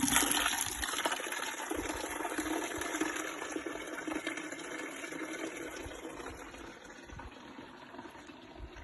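Water rushing and splashing steadily as it is poured out for cows to drink on a cold village morning, a continuous broadband wash that eases slightly toward the end, with no talk.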